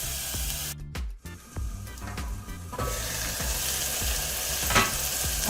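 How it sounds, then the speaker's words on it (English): Onion and mixed bell peppers saute in a pan, a steady frying sizzle broken by a few stirring scrapes near the start, loud and close with no talking. "And I will let this saute for about a minute or so,"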